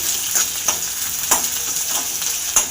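Onion and green chillies sautéing in a pan for poha, a steady frying sizzle broken by a few sharp crackles and stirring scrapes, close and with no voices.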